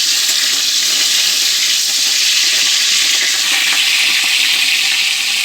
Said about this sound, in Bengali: এখন আমি ফুলকপিটা ভেজে নিচ্ছি।